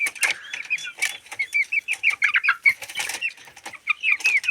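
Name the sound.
chickens and rooster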